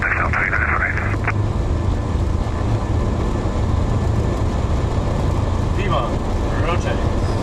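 Inside the cockpit of a Boeing 737-300 during the takeoff roll, a loud, steady roar of engines and runway rumble fills the cabin, with brief radio voices at the start.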